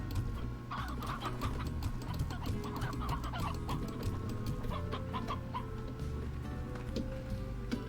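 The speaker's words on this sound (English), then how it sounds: "I guess that place always has chickens, because it kept spawning them in." Chickens clucking in the video game Slime Rancher, a busy chorus of repeated clucks and squawks from several birds over a steady low background hum throughout.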